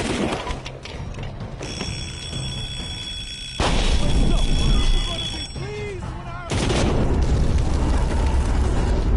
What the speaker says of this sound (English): your fucking dumb idiot friend ran into my fucking grenade